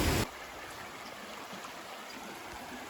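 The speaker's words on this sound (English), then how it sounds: "Some more beautiful falls and rapids along" Falls and rapids on Lost Creek along the Benton MacKaye Trail give a steady, close, broadband rush of water that holds constant without a break once it starts.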